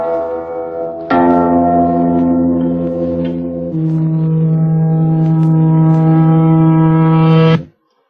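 Notes spliced together on magnetic tape, the last one reversed so it swells from quiet into a bright wah-like crescendo before cutting off abruptly; three sustained bell-like tones, loud and resonant, with no talking.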